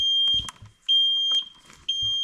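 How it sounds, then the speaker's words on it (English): Parking brake warning beeps from a 2023 Segway Snarler AT5 L ATV: a steady high electronic tone sounds three times in a regular on-off rhythm, close and fairly loud, with faint handling noises between the beeps. "this is the beep sound that I don't like. If you don't pull the parking brake,"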